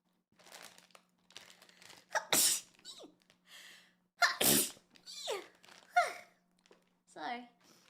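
Someone sneezes twice, loud and close, with sharp bursts separated by about two seconds, surrounded by quieter breaths, rustling and brief talk.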